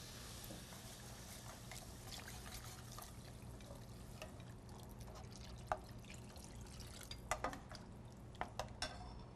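Stock mixed with a little mushroom liquor pours into a pan for soup in a home kitchen, a steady liquid rush with a few sharp clinks of pans and utensils near the end, no voices.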